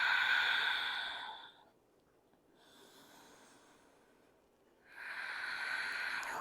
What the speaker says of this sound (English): One more full cycle of breath.